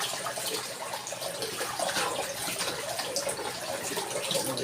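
Chili leaves are washed under running water from a tap, giving a steady, moderately close splashing hiss that continues without a break and with no voices.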